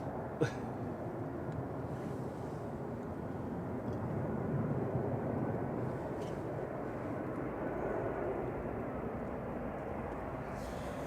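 A Ryanair Boeing 737-800 arriving from Rome at Manchester Airport rumbles faintly in the distance, a low steady engine drone that rises a little midway before settling.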